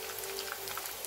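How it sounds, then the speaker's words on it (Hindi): Leftover roti pieces fry in hot oil as homemade nachos, giving a soft, steady crackle and fizz of tiny bubbling pops, faint and without any voice. "ये देखिए हमारे ये फ्राई होना शुरू हो गए हैं अच्छी तरह से"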